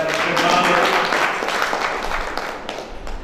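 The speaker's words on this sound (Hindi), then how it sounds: "एक बार जोरदार ताली से दादा" Audience applause at a Hindi poetry gathering (kavi sammelan): a dense, steady wash of many hands clapping that stays loud throughout, then thins slightly toward the end.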